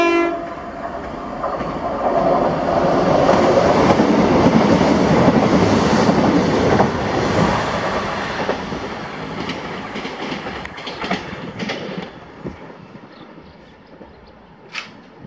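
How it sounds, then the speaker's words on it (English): A ScotRail passenger service from Inverness to Glasgow Queen Street passes through Blair Atholl with a brief horn, then a loud, steady roar and wheel clatter that gradually fades, with a few sharp clicks near the end. "this is 1T62, the 1851 ScotRail service to Glasgow Queen Street from Inverness"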